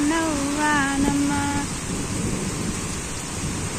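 Steady rain with low thunder rumbling underneath, a melodic voice briefly rising over it in the first second and a half before the downpour continues alone.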